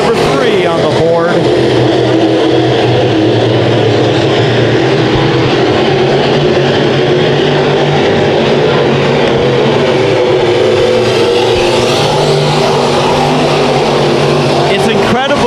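Modified race cars roar continuously around Bakersfield Speedway in a heat race, a loud, steady engine drone with shifting pitch as cars pass, while an announcer talks over it.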